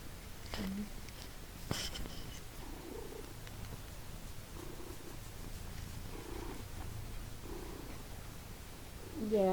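A cat purring steadily and quietly up close, a soft continuous rumble with a few faint sharper noises and a brief voice near the end.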